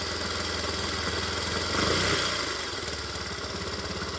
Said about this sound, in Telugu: ఒకసారి చూడండి ఇంజన్ సౌండ్ అనేది ఏ విధంగా వస్తుంది అనేది.